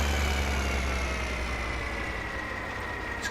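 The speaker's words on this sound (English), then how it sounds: "It's quite a loud tractor, it has to be said." A loud tractor engine idles steadily in the video game Farming Simulator 2015, a constant low rumble with an even mechanical drone, heard from inside a cab with a bare metal roof and no voices.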